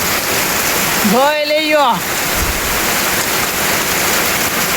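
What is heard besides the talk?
heavy rain falling in a village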